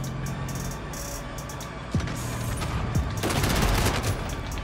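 Shotgun fire in a multiplayer shooter video game, several sharp blasts spaced across the clip amid steady game noise and a denser burst of gunfire toward the end.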